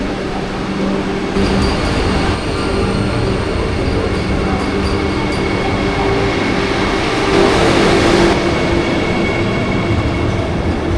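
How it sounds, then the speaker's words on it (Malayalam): A Vande Bharat express train pulls away with a loud, continuous rumble and rail noise, heard from on board with a steady hum and faint clicking, swelling slightly near the end. "അങ്ങനെ വന്ദേ ഭാരത് പുറപ്പെടുകയും ചെയ്തു."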